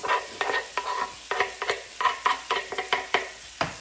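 Minced garlic and onions sizzle in melted butter in a pan for a steak and broccoli stir fry, with a steady frying hiss broken by repeated stirring scrapes in a quick, uneven rhythm, close up and alone.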